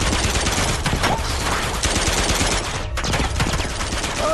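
Heavy gunfire in the video game Uncharted 2 Remastered, a loud, dense burst of rapid shots filling the whole stretch with a brief dip near the end.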